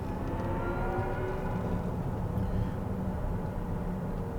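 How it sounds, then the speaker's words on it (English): A 2024 Chevy Blazer EV accelerates with a steady, close electric motor whir over low road rumble, continuous and unbroken, with no talking. "when you accelerate, it's almost like this like pumped in whirring noise when you accelerate"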